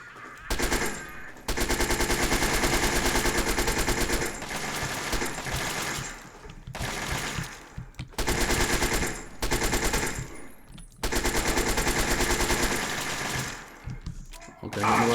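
Automatic gunfire in Fallout 3 rattles out in several long, rapid bursts separated by short pauses, loud and mechanical, with brief quiet gaps between the volleys.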